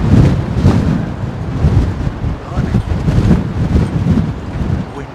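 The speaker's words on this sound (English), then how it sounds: "Wind is that." Strong wind buffets the microphone at Heathrow Airport, a loud continuous rumble that surges and eases in gusts throughout.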